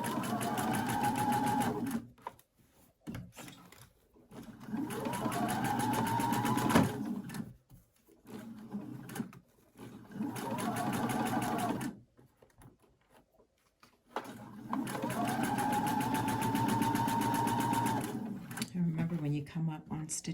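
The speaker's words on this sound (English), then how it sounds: "So we're going to stitch 5/8 around, and then your cuff will be on" A sewing machine runs in several bursts of rapid stitching as it sews a linen shirt cuff, stopping and starting with short pauses between runs, close and clear with no voice over it.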